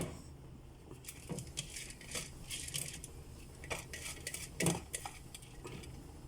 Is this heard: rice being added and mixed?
yes